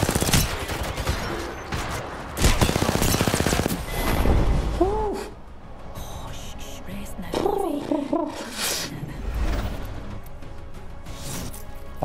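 Gunfire in the shooter Apex Legends during a match, with dense bursts of shots near the start, a sustained volley a few seconds in and scattered shots later, mixed with game effects.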